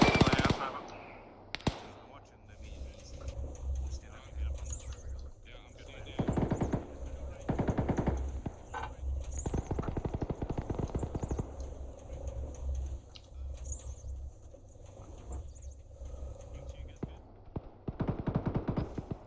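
Vehicle-mounted machine gun in Arma 3 firing from the gunner seat, with loud sustained bursts repeated across the stretch and brief gaps between them, close and harsh.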